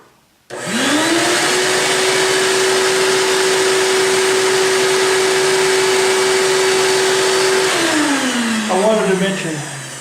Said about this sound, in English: I'm gonna turn on my shop vac